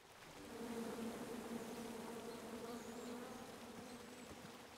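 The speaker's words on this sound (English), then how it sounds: "Come at me, bees!" Bees buzz in the King's Quest video game, a soft, steady insect hum that swells in and holds faintly throughout, with no one talking.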